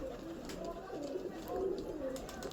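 Pigeons kept by a fancier coo softly in low, rolling murmurs, faint and close, while someone talks over them.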